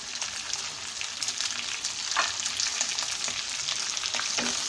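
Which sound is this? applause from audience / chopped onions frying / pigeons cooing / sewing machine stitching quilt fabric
chopped onions frying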